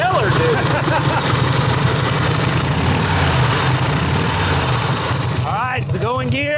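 An 80-year-old motorcycle that sat unused for decades runs steadily with a loud, close, continuous engine drone and a lumpy, pulsing idle. A voice speaks over it near the end.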